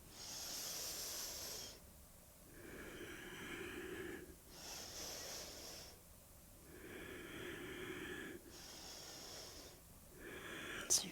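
Slow, audible breaths near the microphone during a yoga tree-pose balance session, with several long airy exhales and softer inhales alternating in a calm, repeated rhythm.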